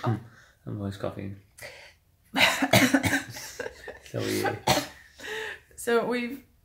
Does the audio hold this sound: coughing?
yes